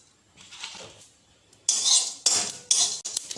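A metal spoon scrapes and clinks against a kadai holding cardamom, cinnamon and cumin, with a soft faint rustle first and then three loud, bright stirring strokes close by.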